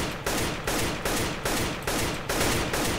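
Rapid automatic gunfire in CS:GO, about seven loud close bursts in an even rhythm, each shot cracking sharply and decaying before the next.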